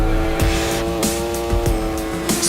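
A motorcycle engine in a racing video game holds a steady high-pitched whine with brief dips and surges in revs, continuous and fairly loud, with no voices.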